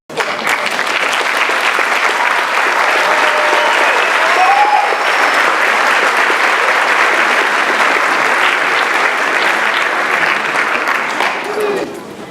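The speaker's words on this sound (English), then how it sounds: "should stand to be recognized with a round of applause" Steady, loud round of audience applause at a high school graduation ceremony, sustained evenly for about twelve seconds before easing off at the end, with a few faint voices mixed in.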